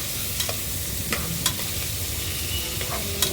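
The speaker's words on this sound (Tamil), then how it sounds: "இஞ்சி நசுக்கி போட்டு வதங்கணும்." Crushed ginger sautés in a pan for Tamil chicken kurma, giving a steady close sizzle with a few sharp scrapes of a spoon stirring through it.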